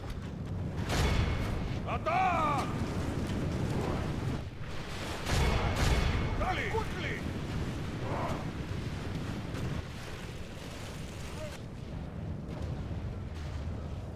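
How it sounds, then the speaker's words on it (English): Artillery firing during a siege battle in the Total War game Tsardoms 1448, deep booming shots scattered across the scene amid a rumbling battlefield, with voices and game cues drifting over the mix. "Artillery is firing."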